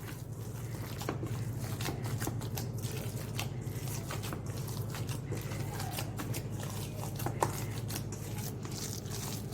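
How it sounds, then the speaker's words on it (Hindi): Minced mutton, spices and a raw egg are squished and kneaded together by hand in a bowl, with soft wet squelching and scraping repeated steadily at close range, without talk. "इसके अंदर एक अंडा डालेंगे। अब क्या करेंगे, हम इसको हाथों से अच्छे से मिलाएंगे।"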